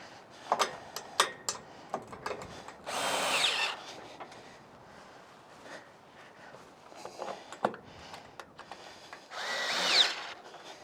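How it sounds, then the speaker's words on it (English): Two bursts of a power drill whir briefly as it tightens bolts on trailer bunks, separated by scattered clicks and taps of tools and hardware. "your drill, you drill there, tighten her down"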